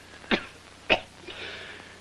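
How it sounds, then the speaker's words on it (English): A man coughs twice, sharp and close, followed by a soft breathy throat sound. "Me with this terrible cough."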